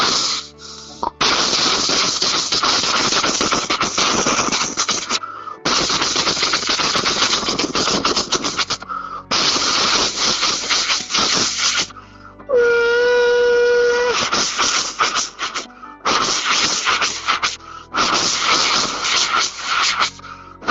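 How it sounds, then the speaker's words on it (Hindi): An old steam railway engine runs with loud, repeated bursts of rushing, hissing steam separated by short gaps. A brief whistle tone cuts in partway through. "पुराना इंजन चलाने का प्रयास कर। रेल का पुराना इंजन है।"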